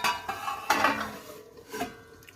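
Metal lid set down on a pan of chilli chicken simmering in water, a few close clattering knocks spaced over two seconds, with no talk.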